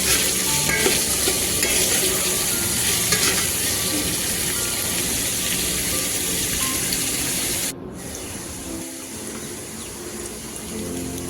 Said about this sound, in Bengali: পেঁয়াজটা আমি ভালো করে একটু ভেজে নেব যত সময় না কাঁচা গন্ধটা যাচ্ছে।